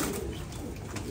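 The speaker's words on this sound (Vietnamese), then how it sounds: "Ví dụ như là cặp chim bồ câu này đi, mình lấy ví dụ đi, nó đang nuôi con nhé." A breeding pair of pigeons raising young coo softly and continuously, with low throaty murmurs over a steady outdoor background and no voices.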